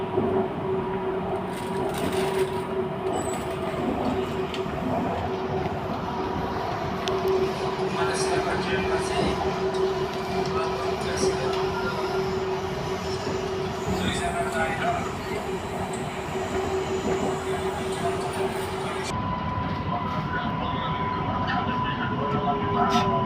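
Riding aboard a nearly empty passenger train in Malaysia, a continuous rumbling carriage drone with a steady tonal hum and faint rail noise throughout, loud and close, with a slight change in tone near the end.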